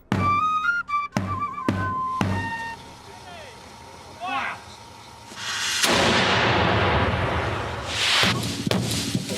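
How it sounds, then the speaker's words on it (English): A cannon fires at a target about 250 feet away, giving a sharp loud blast followed by a long rumbling roar, with an announcer speaking over parts of it. "Time to wheel out the cannon."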